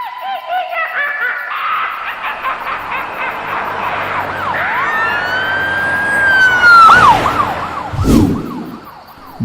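A black toy police car sounds its electronic siren, a loud wailing tone that sweeps up and down in repeated rising and falling cycles, joined near the end by a brief harsher burst.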